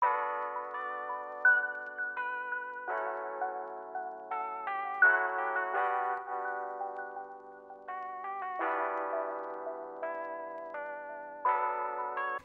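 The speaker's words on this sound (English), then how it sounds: "I just added a Electra X, just a little bell, just to give that little atmosphere in the background." An Electra X synth plays a soft bell patch in a lofi beat, chiming melodic notes with echo and chorus that ring and overlap continuously, gentle and unaccompanied by voices.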